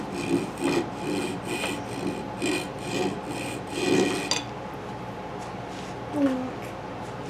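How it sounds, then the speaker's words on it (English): A file rasps back and forth across the pine block of a pinewood derby car in steady rhythmic strokes, close and clear, then stops as low talk continues in the background. "Cut the wood out, don't just file through the filing."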